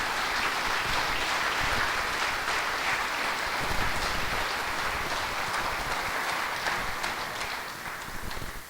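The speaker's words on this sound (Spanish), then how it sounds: "te invito a que le des un fuerte aplauso a nuestro Dios" A church congregation applauding, a loud, dense, continuous roar of clapping that holds steady and then tapers slightly near the end, with no voices standing out.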